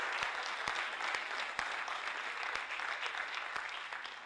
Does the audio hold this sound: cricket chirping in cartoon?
no